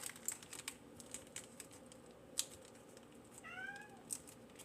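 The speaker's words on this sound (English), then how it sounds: "My cat is being cranky that I'm not sharing this delicious chicken with him" A cat meows, cranky and wanting chicken, in a home kitchen; a short, fairly faint rising meow near the end follows soft clicking and tapping sounds.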